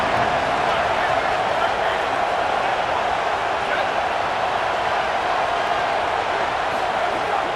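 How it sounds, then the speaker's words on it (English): A large stadium crowd roars steadily during a third-down defensive stand in the EA Sports College Football video game, a dense, loud wash of cheering that holds constant throughout. "Decibels rising as the crowd gets behind this defense on 3rd down"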